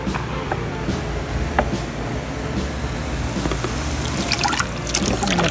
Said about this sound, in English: I'm going to pour all the juices in.